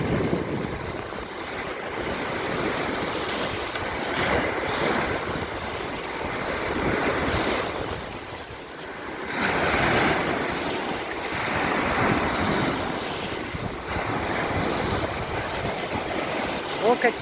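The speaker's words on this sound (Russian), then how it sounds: "О, какие волны, как на океане." Mediterranean sea waves breaking on the coast of Cyprus, loud rolling surges that swell and recede every few seconds, mixed with gusty wind buffeting the microphone.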